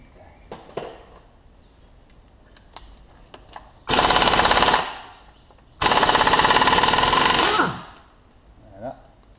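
An air impact wrench rattles loudly in two bursts of about two seconds each, removing the pulley from a Ford Fiesta Mk2 Zetec engine during teardown, with faint workshop clatter before and between them.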